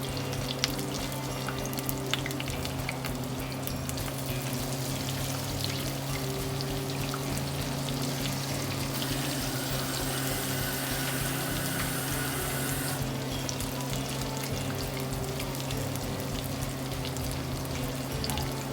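Chicken cutlets for chicken parmesan sizzle steadily in a hot pan, a dense continuous frying crackle that stays even and close throughout with no voices.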